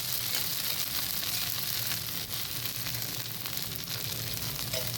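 Steady, even sizzle of colocasia leaf dosa frying in coconut oil on a pan, a continuous close hiss with no talking.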